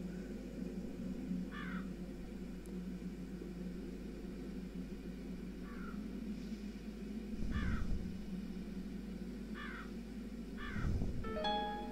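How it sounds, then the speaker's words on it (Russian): A black raven in the video game Darkness Within caws several times at irregular intervals, short harsh calls over a low, steady ambient drone with occasional deep rumbles. "Ну чё, привет, чёрный ворон."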